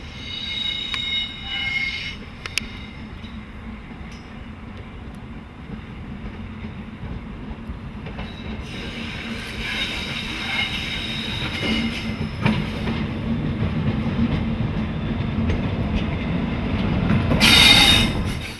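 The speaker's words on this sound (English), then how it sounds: "we see 295022 running light engine through the yard on the southern side of the town" A Class 295 diesel locomotive, 295022, runs light engine through a rail yard on the south side of Lübeck, a low rumble with clanking wheels, sharp squeals and bursts of hiss building louder toward the end.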